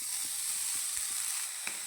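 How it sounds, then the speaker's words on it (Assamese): Glutinous bora rice frying with cashews and raisins over a low gas flame gives a steady soft sizzle, with a few light clicks from stirring scattered through. "কাজু আৰু কিচমিচখিনিৰ লগতে চাউলখিনি দি দিম আৰু গেছৰ ফ্লেমটো ল' কৰি এইখিনি ল' ফ্লেমতে ভাজি থাকিম।"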